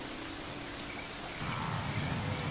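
Heavy rain pours down steadily in the Serengeti, a dense continuous hiss that swells louder midway through, with no voices.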